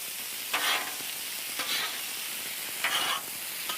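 Mushrooms and onions frying on a griddle, a steady hissing sizzle with three brief swells of scraping as a spatula moves them around, close and alone without talk.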